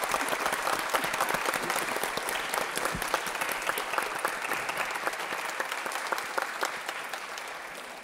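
Audience applause welcoming Choi Hyung-sik, head of Damyang county, at a regional forum: a steady, dense clapping from a large crowd, sustained and even throughout, tapering slightly at the end.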